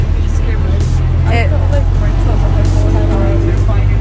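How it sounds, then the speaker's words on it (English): Steady low engine rumble and road noise inside a moving bus, continuous and loud throughout, with people talking over it. "We're on the bus going back now."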